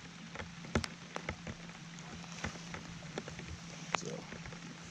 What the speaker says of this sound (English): And it's rained ever since. I mean, a good steady rain.